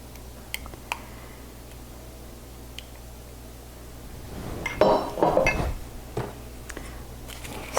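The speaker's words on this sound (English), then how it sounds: "We're going to spoon the rest of the sauce over the top." Sauce being spooned over a meatloaf in a pan: a few light metallic clinks and taps, then a brief cluster of spoon scraping against the pan midway, fairly close and otherwise quiet.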